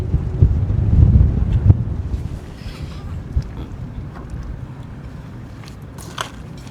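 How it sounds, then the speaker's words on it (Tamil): Strong wind buffets the microphone outdoors during a wild honey hunt, loud gusty rumbling that peaks early then settles into a steady roar, with faint scattered knocks and distant voices. "காற்று பயங்கரமாக அடிக்குது"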